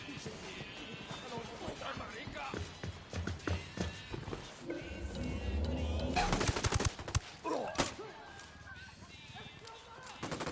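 Gunfire in a PS4 video game crackles in scattered shots and short bursts, mixed with hoofbeats, footsteps and other game sounds at moderate volume, with a steady background hum throughout.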